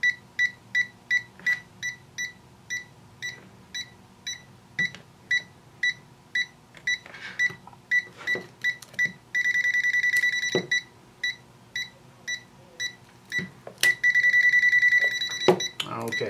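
Handheld digital multimeter with a non-contact voltage (NCV) AC sniffer gives a steady string of short, sharp electronic beeps, shifting at times into a continuous tone before the pulsing resumes, close and clear with a faint voice underneath.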